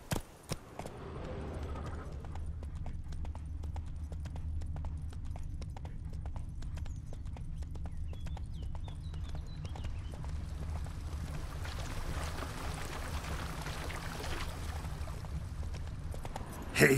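Hooves of a horse in The Witcher 3 video game beat in a steady, continuous clip-clop over a low rumbling background, with no talking.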